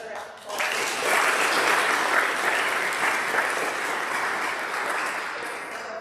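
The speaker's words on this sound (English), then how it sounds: "Can you give them another round of applause?" Dense, steady applause from a school audience at eighth grade speeches fills the room for about six seconds, many hands clapping at close range without pause.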